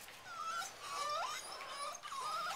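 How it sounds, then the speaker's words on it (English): Puppies whimper and whine close up in thin, high, wavering cries that keep going almost without pause, with no voices. "This is the Omen puppies"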